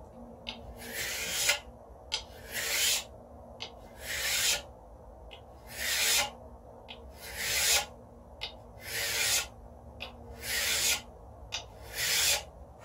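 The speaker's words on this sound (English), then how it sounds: "I'm going to take the file, I'm going to put it perpendicular to this edge here, nice and flat, and I'm just going to reestablish that nice sharp flat line" A file strokes across the edge of a card scraper, each pass a loud, rasping scrape, about nine even strokes in a steady back-and-forth rhythm with short gaps between them.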